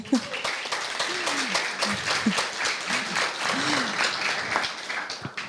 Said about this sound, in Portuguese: Palmas para esse moço.